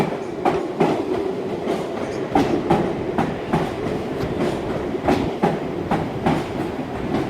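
A Class 350 electric train departs Carlisle station on the West Coast Main Line bound for Glasgow, its wheels beating a steady, fairly loud clickety-clack rhythm over the rail joints as it pulls away nearby.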